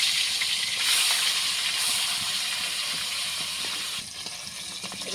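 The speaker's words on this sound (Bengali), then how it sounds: "এক এক করে সব মাছগুলো ভাজা হয়ে গেছে।" Hilsa fish pieces frying in hot oil make a loud, steady sizzle that lasts throughout with only slight swells and no speech.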